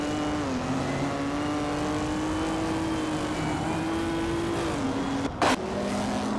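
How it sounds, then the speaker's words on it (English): A 1950 Ferrari 375 F1 racing in a video game, its engine holding a steady high drone with slight pitch shifts and a brief break near the end, loud and continuous with no talking. "Bot Equinox 2 is racing a 1950 Ferrari 375 F1"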